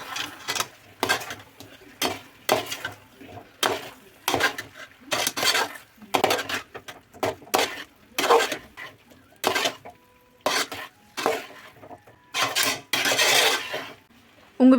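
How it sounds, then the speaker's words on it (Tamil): Metal spatula scraping and clanking against a pan in repeated bursts as fried chicken is stirred into a chilli chicken masala, close and loud, with no talking. "சிக்கனை சேர்த்து நல்லா கிண்டி விட்டுக்குங்க."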